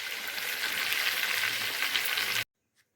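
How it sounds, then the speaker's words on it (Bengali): Chicken frying in a pan gives a steady, dense sizzle that runs loud and close for about two and a half seconds, then cuts off abruptly to near silence. "এরকম বন্ধুরা সকাল সকাল চিকেন রান্না শুরু করে দিয়েছি"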